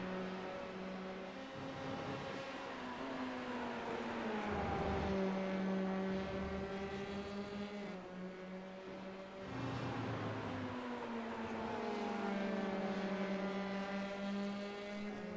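Formula 3 race cars at Donington Park scream down the straightaway, their engine notes rising and falling continuously in steady upshifts, with one car closely trailing another, loud and sustained throughout.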